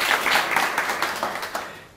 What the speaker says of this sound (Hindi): इनके लिए ताली बजा दो एक बार